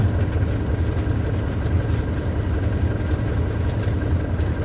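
A two-stroke motorcycle engine drones steadily by a roadside, a dense, even buzz over low rumble with no clear rise or fade, close and fairly loud.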